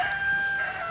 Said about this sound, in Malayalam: കോഴിയുടെ ഒക്കെ സൗണ്ട് കേൾക്കുന്നത്.